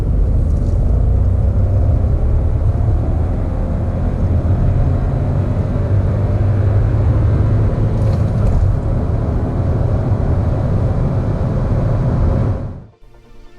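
A 2018 VW Polo pulls hard from 30 to 70 mph, heard as a continuous loud engine and road rumble from inside the car that cuts off abruptly at the end.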